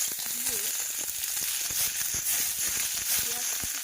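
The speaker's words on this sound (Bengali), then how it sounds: "এদিকে একটা কড়াই বসিয়ে দিয়েছি তেল দিয়ে, তার মধ্যে দিয়ে দিয়েছি পেঁয়াজ কুচি" Chopped onion sizzling and frying in hot oil in a wok, a steady bright crackling hiss throughout with occasional stirring scrapes, close up, alongside brief faint voice-like tones.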